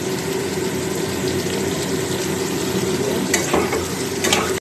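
Ridge gourd frying in a pan with panch phoron and green chillies for a poppy-seed dish, a loud continuous sizzle and hiss with a couple of stirring scrapes near the end, and no voices.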